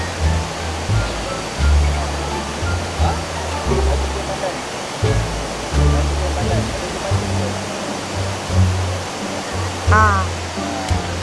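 A waterfall roars as a constant, dense rush of falling water at close range, with voices occasionally murmuring underneath.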